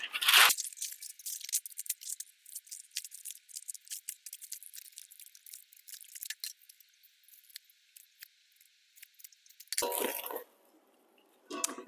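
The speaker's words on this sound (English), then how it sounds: "Cut your parchment squares." Scissors cutting parchment paper into squares in a kitchen, a series of close crisp snips and rustles, with louder paper crinkling at the start and near the end.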